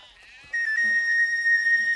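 Sheep and goats bleat in a pastoral setting around a well, a drawn-out wavering call rising after a brief quiet start and holding steady and fairly close, with no talk over it.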